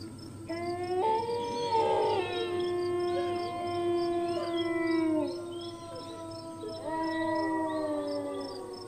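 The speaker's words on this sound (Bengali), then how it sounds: "এবার তার সঙ্গে শেয়ালের ডাক যোগ হল" Several jackals howl together in long, wavering, overlapping cries that rise and fade, with a steady insect chirring underneath.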